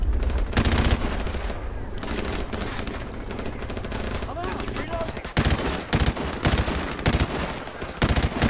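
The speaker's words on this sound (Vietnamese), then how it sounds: "Đây là khẩu súng máy rất là tuyệt vời nha các bạn" M249 machine gun bursts in Call of Duty 4 Remastered, loud rapid automatic fire in repeated bursts with other gunfire in the mix and brief pauses between volleys.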